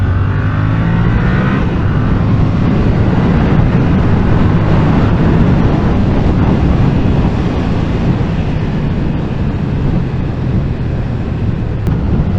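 A Yamaha MT-07 motorcycle with its CP2 parallel-twin engine on a test ride, a steady loud engine drone thick with wind rush that holds constant throughout.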